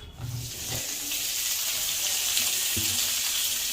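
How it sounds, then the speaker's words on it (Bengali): Onion, tomato and garlic frying in a pan, a steady close sizzle with a couple of soft knocks near the start and again later, no voices. "পেঁয়াজ দিয়ে দিলাম তারপর টমেটোটা দিয়ে দিলাম রসুনটাও দিয়ে দিলাম"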